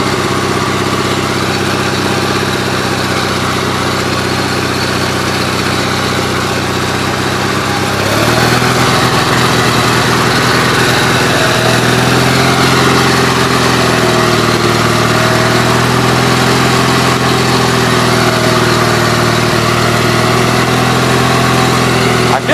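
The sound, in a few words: vehicle engine accelerating through mud while pulling a trailer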